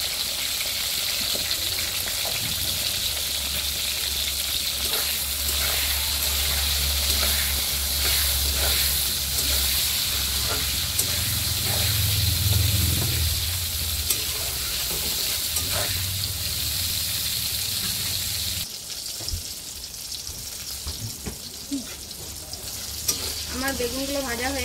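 Eggplant slices frying in hot oil for a Bengali pabda fish dish, a steady loud sizzle and crackle with occasional stirring, the noise dropping and thinning near the end as the pieces are lifted out.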